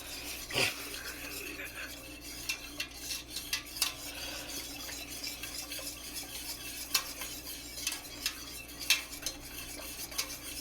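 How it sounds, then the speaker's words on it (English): Soft scraping and light clinks of a utensil stirring gluten-free, nightshade-free enchilada sauce in a pot repeat irregularly, quiet and close, with a faint sizzle underneath. "They're just gonna have to listen to us stirring."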